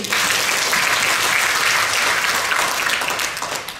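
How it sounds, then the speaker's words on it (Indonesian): An audience at a governor's opening speech for a student paralympic event bursts into loud, dense applause, an unbroken roar of clapping for a few seconds that tapers at the end. "Tepuk tangan untuk kita semua"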